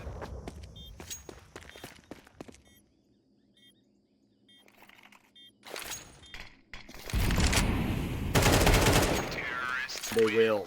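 Sharp gunfire bursts and footsteps from a competitive shooter esports match between Team Partizan and Team Ruby, scattered single shots early, then dense rapid volleys building loud toward the end.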